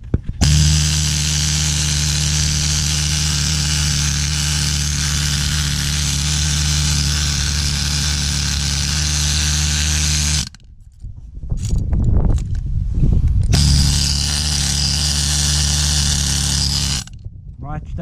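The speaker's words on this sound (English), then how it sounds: "This is how a needle scaler works." Pneumatic needle scaler chipping paint and rust off a surface, a loud continuous rattling buzz at close range that stops briefly mid-way and then resumes.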